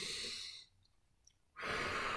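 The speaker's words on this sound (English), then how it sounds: "We're going to take three big breaths together" A big calming breath taken during a children's circle time: a single soft, airy sigh-like breath that is faint and brief, set between louder stretches of background.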